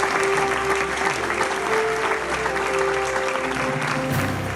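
A crowd at an Oxford University convocation ceremony applauds, producing a dense, sustained clapping that stays close and loud throughout.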